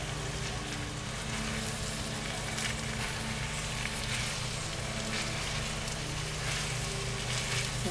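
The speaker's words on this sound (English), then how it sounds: "We're going to fry it up until it gets all hot through and through." Leftover rotisserie chicken fried rice frying in a hot pan, a continuous dense sizzle and crackle, even and fairly loud throughout with no voices.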